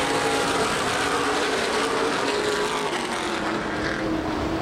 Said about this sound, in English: Back to green flag racing in the Anderson 125.